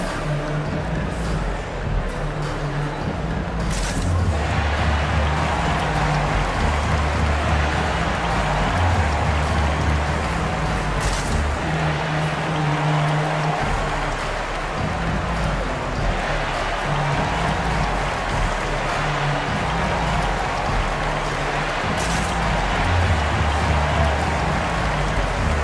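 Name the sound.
crowd applause in an NBA basketball video game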